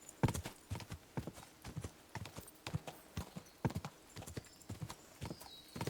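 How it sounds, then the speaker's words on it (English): Hooves pound in a steady gallop as a horse runs in the video game Kingdom Come: Deliverance 2. The rapid clip-clop beats repeat continuously and sound fairly close, with faint ambient game sound underneath. "That horse has some good stamina."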